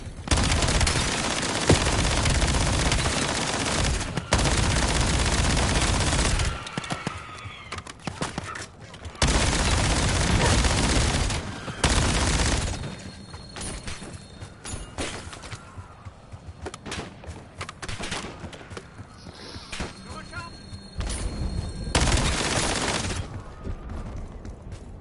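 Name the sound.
mini turret gunfire in video game Black Ops 7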